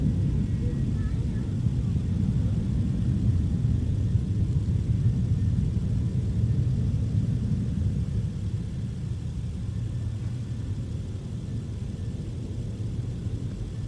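Steady, loud aircraft engine roar at Minneapolis–St. Paul airport, a broad low rumble that holds for the whole stretch and eases slightly near the end, with a voice talking over it at times.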